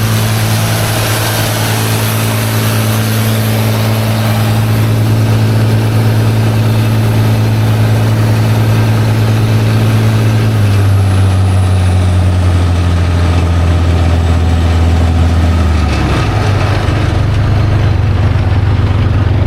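A mini frac wagon's heavy engine idles steadily and loudly in a yard, its low rumble holding even before the pitch drops slightly around the midpoint and shifts again near the end, with no voices.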